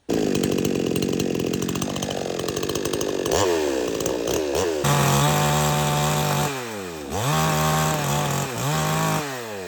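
A chainsaw used while clearing an overgrown plot beside a long-abandoned village house runs loud and close throughout, revving repeatedly with rising and falling pitch sweeps as it cuts.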